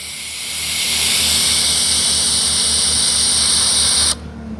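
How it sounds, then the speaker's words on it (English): Ryobi 1.8 GPM pressure washer spraying through its stock 15-degree nozzle, a loud steady hiss of water over a motor drone that builds up at the start and cuts off sharply near the end. "I wanna show you really quick a little bit of the pressure of the 15-degree nozzle that comes with the Ryobi"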